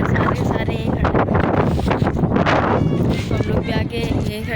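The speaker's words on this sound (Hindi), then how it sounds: "यहाँ पे बहुत तेज हवा चल रही है हमारे, आगे जाने ही नहीं दे रहा।" Strong wind blows hard on a seafront where a stuck cargo ship lies offshore, roaring and buffeting the microphone without a break, loud and close, while people talk under it.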